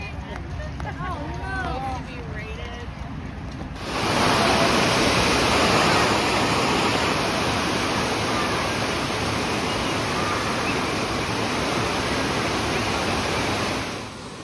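Pouring rain beats down during a football game, starting abruptly after a few seconds of voices and then roaring as a loud, dense, even wash of noise that fades near the end.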